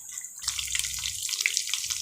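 Tap water runs steadily into a sink as radish and spinach are rinsed, a close, continuous splashing flow that starts abruptly and keeps going with no talk over it.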